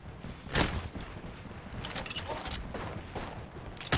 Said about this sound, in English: Knuckle cluster's firing. That's a grenade.